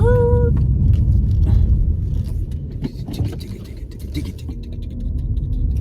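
A car pulls into a parking spot and comes to rest, its engine rumbling low and close with scraping and jangling touches, the idle easing slightly before settling steady.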